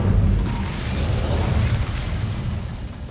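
Incendio fire spell cast in Hogwarts Legacy, a loud, close, rumbling burst of flame with crackling, heavy low-end energy that sustains for several seconds.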